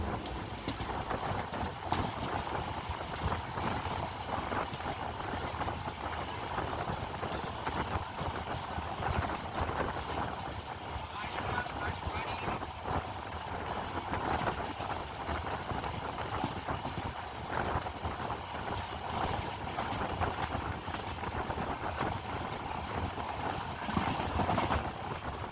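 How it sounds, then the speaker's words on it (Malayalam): Himsagar Express rolling through Parassala station without stopping, a steady broadband rumble and rattle of the moving train running continuously and fairly loud from start to finish, with no voices. "പാറശാല സ്കിപ്പ് ചെയ്യുകയാണ് നമ്മുടെ ട്രെയിൻ"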